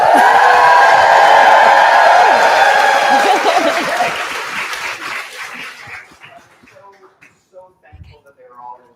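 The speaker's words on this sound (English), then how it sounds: "Just as a level of applause, how are all the speakers this morning?" Audience applause with cheers and whoops for the morning's speakers at a community festival in a Vancouver venue, loud and dense at first, then thinning out into scattered claps and quiet murmurs.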